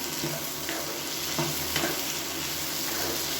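Radish and curry leaves sauté in a pan with a soft, continuous sizzle and a few faint stirring scrapes, fairly quiet and close, with no voices.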